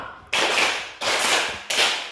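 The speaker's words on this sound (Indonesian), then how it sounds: "Sekali lagi tepuk 5." Several people clapping in unison, giving three sharp, loud bursts at an even pace, with each one trailing off before the next begins.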